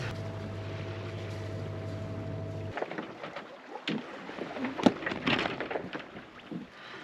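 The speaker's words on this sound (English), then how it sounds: "I guess we will have to motor through the night unless it picks up" Sailboat motoring on a windless night under engine power, with a steady low engine drone for a few seconds that then stops, leaving quiet water sloshing and soft creaks aboard.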